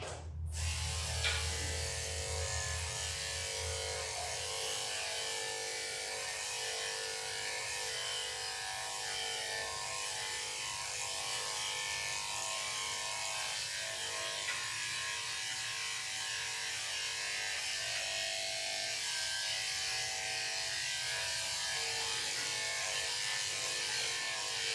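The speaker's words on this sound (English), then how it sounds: "Now we'll go ahead and do the last bit of clip-on shaving on her ears." Electric clippers shave the ears of a doodle dog during grooming, giving a steady, close, continuous motor buzz that runs unbroken without talk.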